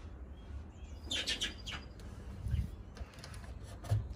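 Pet collared doves, kept as a pair with one in white, give soft chirps and a couple of low coos in an indoor aviary, faint and intermittent over a quiet background.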